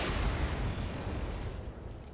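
Mech autocannon and weapons fire in the Roguetech video game come through as a dense, sustained rumbling barrage of booms, loud and continuous before slowly fading, with no voices.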